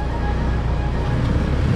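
A motorcycle engine idles low, its idle set too low so it tends to stall, giving a steady, close, continuous low rumble with broadband noise and no voices.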